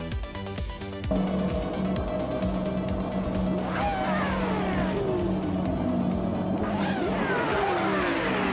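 Racing-game cars launch from the start at the Hockenheimring Retro GP, a pack of engines roaring loud and steady as revs climb and sweep upward through gear changes, with repeated rising whines layered over a constant low drone.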